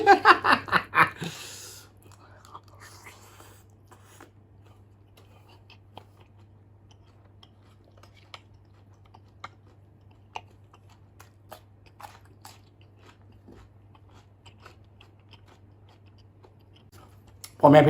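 Chewing on khanom chin rice noodles with chicken feet in coconut curry sauce, close and soft, with sporadic crunchy bites and wet mouth clicks; brief bursts of voice open and close the stretch.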